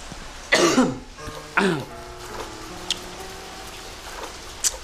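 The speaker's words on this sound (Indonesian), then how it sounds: "sorry guys, batuk" Two harsh coughs close to the microphone, a short pause between them, followed by a few faint clicks and taps, during a horror video game session.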